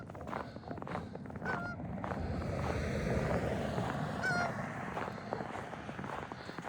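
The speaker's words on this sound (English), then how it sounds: "That's a goose" Lone goose honking overhead in flight, a few distinct calls around the second and fourth seconds over steady wind and outdoor rumble during a long weighted ruck march.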